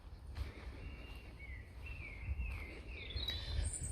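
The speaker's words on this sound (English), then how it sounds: "Just leaving everything in silence then so you could hear the birds" In a quiet churchyard, faint birdsong of thin whistled phrases and a few sliding notes drifts in from a distance over a soft low background hum.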